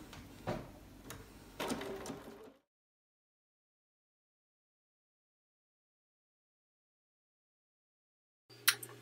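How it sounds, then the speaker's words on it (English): A sewing machine stitches quilt blocks together in short bursts of rapid mechanical whirring, then falls silent for several seconds before starting up again briefly. "I've got the first row sewn together."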